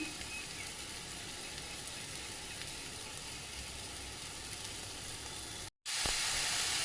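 Masala with coriander powder and curry leaves fries in a pan for soybean dal, giving a loud, steady, close sizzle throughout that cuts out for an instant near the end and resumes.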